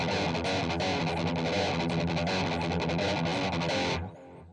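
Heavy distorted opening of a song, cymbals crashing over a dense, loud mix that stops abruptly near the end.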